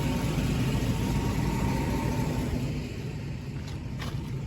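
A bus air conditioning system runs with a steady, loud, broad droning rumble that holds constant throughout, easing slightly toward the end.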